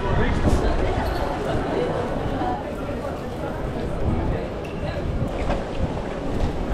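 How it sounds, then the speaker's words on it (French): Steady outdoor wind in Japan, after rain, rumbling and buffeting against the microphone, a continuous low roar with no clear pauses. "il y a du vent encore"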